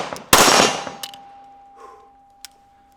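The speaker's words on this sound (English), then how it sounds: "I'm gonna drop it down and take my pistol and fire one shot at the middle target" A single sharp airsoft pistol shot fired at a target during training, a loud crack with a ringing metallic tone afterward, followed by small clicks and a faint later tap.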